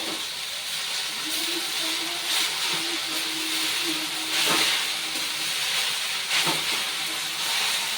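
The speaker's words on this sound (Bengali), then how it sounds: "এবার এর মধ্যে দিয়ে দেবো আমি কেটে নেওয়া পাট শাক।" Chopped jute leaves (paat shaak) go into a hot pan for a Bengali bhaja. A loud, steady sizzling hiss fills the whole stretch, swelling in short surges as the greens settle.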